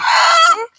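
A native Bangladeshi hen gives a single short, loud, nasal squawk close by, about half a second long and trailing off, with nothing else heard.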